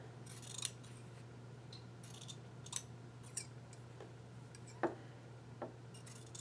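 Scissors trimming sewing fabric give a handful of sparse, crisp snips spaced a second or so apart, fairly close, over a steady low hum in an otherwise quiet room.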